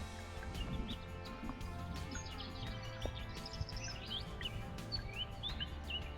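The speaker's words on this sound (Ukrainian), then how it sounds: "пташки співають" Small birds chirp and trill intermittently at a distance over a steady low rumble of outdoor background noise, heard from a river.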